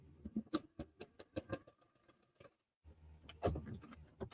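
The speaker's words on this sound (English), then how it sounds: "so now we're going to sew this down" A sewing machine stitches down pieces of a rustic Christmas tree quilt made from a charm pack, running in short rapid bursts with brief pauses, close and fairly quiet, with no talking.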